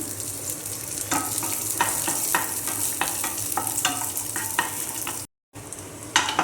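Cashews and raisins fry in ghee in a pan for pineapple payasam, making a steady close sizzle with repeated scraping stirs throughout and no talk.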